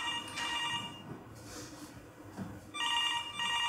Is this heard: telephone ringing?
yes